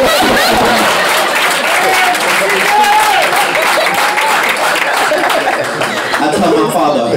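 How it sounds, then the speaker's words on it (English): A crowd at a lively talk claps on cue, a busy wash of hand claps mixed with chuckles and scattered chatter, while a voice carries on over the noise. "clap right now."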